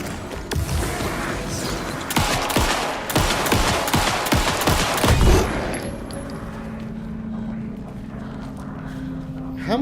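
Gunfire in the horror game Alan Wake 2 on PC, a rapid burst of loud close shots fired in quick succession, then fading into a low droning ambience.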